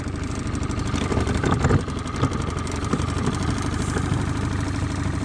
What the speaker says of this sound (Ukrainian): Мотор трошки допомагав нам бути на плаву.